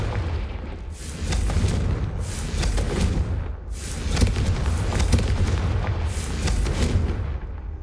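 An explosive Confringo fire spell in the video game Hogwarts Legacy produces a sustained roar of repeated booming blasts and rumbling bursts. It continues loud and dense throughout, with no talking.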